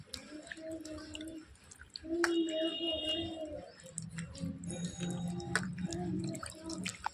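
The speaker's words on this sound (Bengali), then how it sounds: "জলের মধ্যে দিয়ে ভালো করে ধুয়ে নেব" Jujube fruits being washed by hand in water to clear dust and grit before pickling: soft drips, squishy splashes and trickles, with faint birdsong and a low humming voice in the background.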